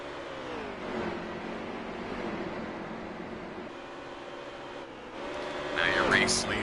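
Race car engines droning around the Pocono track in NASCAR Heat 3, a steady mid-distance roar that swells near the end, under a commentator's talk.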